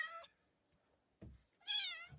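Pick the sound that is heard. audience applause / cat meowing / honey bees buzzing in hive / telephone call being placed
cat meowing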